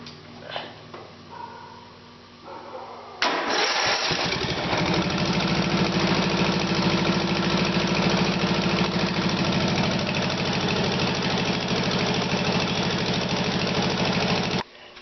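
A Murray Offroad lawn tractor engine, just fitted with a new carburetor, catches after a few seconds of quiet handling noise and then runs steadily at a loud, even idle until it cuts off near the end.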